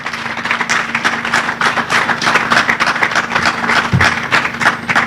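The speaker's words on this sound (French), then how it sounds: "sous vos applaudissements" An audience applauding to welcome an author at a book launch in Lubumbashi, dense continuous clapping from many hands, loud and sustained throughout.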